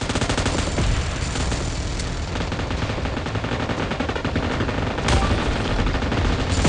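Dense, loud gunfire from PUBG Mobile, rapid automatic bursts running nonstop with heavier shots layered in, close and saturated throughout.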